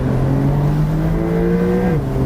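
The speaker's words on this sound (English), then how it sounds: "Let me show you what I mean about that last 500 RPM change in the sound." A Porsche 992 911 Targa 4 GTS engine revs hard toward redline, its tone climbing steadily and changing over the last 500 RPM before dropping off sharply near the end. Loud and close.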